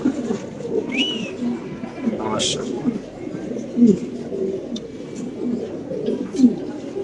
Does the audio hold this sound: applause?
no